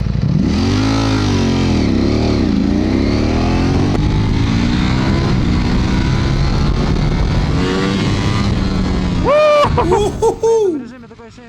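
A 2022 Ducati Panigale V4S in its Race A mode roars close and loud as it is ridden, with the engine rising and falling through rev sweeps, then a few sharp high blips at the end.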